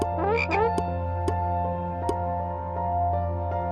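Frogs croaking in a steady chorus, with a few sharp clicks and a rising call near the start, continuous and close.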